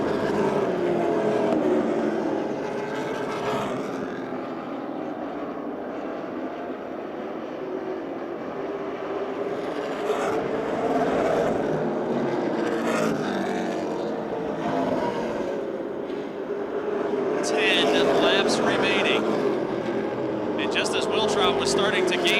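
Race cars roar around the Motordrome Speedway oval, engines rising and falling as they pass, with a track announcer talking loudly over the racing throughout.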